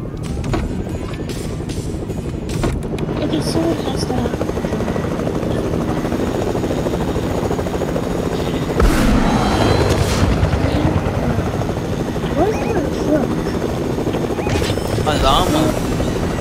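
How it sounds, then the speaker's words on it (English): A video game helicopter thrums loudly and continuously with a steady rotor chop and engine whine, while players talk over it and brief game effects flare up midway. "let's get the helicopter real quick"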